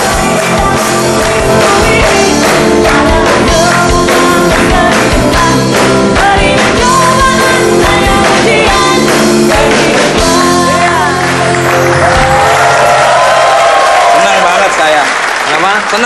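A loud, dense roll of applause from a television studio audience greeting a singer on a talk show, sustained and steady throughout with music playing along underneath.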